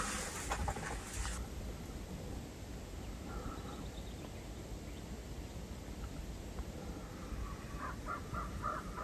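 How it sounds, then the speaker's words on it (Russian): Forest birds, including crows, call faintly in the distance over a steady broadband hiss, with a few short caws scattered through the quiet woodland. "Птички поют."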